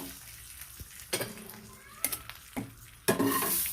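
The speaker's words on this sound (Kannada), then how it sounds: "ಈಗ ಒಗ್ಗರಣೆ ಕೊಡಬೇಕು." Whole spices for tempering holige saaru crackle and sizzle in hot oil, in several sharp bursts of loud frying mixed with the clink of a pan and spoon, with no talking.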